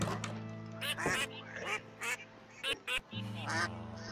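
Ducks quack in Minecraft survival gameplay, with a baby white duck and several brown ducks nearby, sounding as a series of short, moderately loud calls between steady background game music.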